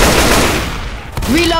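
Shotgun blasts in Left 4 Dead 2, loud and dense over a chaotic game mix, with a brief dip before a fresh burst and a rising tonal whine near the end.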